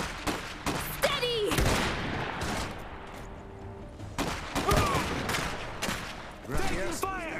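Gunfire in the mech battle video game Iron Harvest sounds in sharp repeated bursts and volleys mixed with game sounds, while a voice speaks over the shooting.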